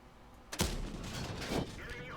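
A Strv S1 tank destroyer's gun fires in World of Tanks as a sharp, loud boom, followed by a rumbling tail and a second thump, with a faint background hum.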